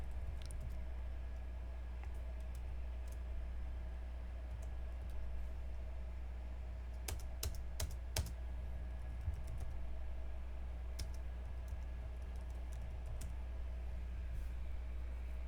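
Quiet keystrokes on a computer keyboard, sparse clicks with a quick burst of several taps midway, heard close over a steady low background hum.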